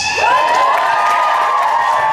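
Convention audience at a Tsubasacon 2021 cosplay masquerade cheering: a loud, steady crowd roar with high whoops and shouts rising over it, continuous throughout.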